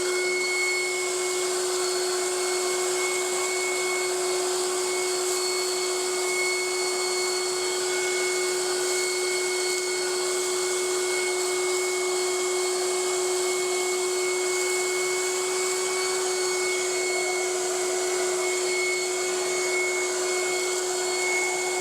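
A vacuum cleaner running continuously inside the interior of a 1967 El Camino, a steady loud whine and drone that holds without a break, close by, no talk.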